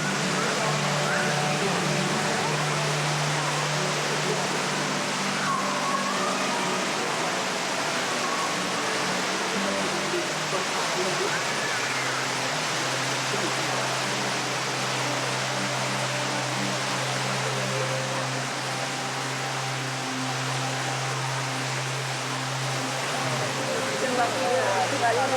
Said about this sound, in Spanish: Lo sorprendente es que la cascada está a más de 1000 pies dentro de la montaña